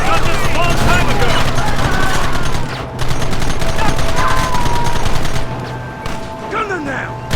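Heavy gunfire crackles in a dense, continuous fusillade during a Red Dead Redemption shootout, loud and close, with shouted voices and brief lulls in the barrage.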